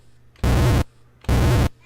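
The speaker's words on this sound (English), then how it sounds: "And here's our explosion." Two loud bursts of harsh synthetic noise, each about half a second long, like retro arcade explosions separated by a short gap, generated by a Color Computer programmed in BASIC.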